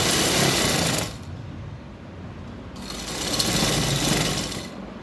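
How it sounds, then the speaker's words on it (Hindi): A sewing machine stitches lace onto a dupatta, running in two steady, loud whirring bursts with a brief slower pause between them, close by and with no voices. "हम सिलाई को डबल करेंगे ताकि सिलाई जो है वो खुले नहीं"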